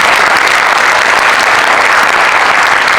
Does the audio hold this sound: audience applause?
yes